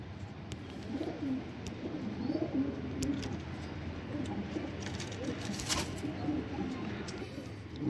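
Sialkoti pigeons coo in soft, repeated rolling calls at close range, layered over a steady low background hum.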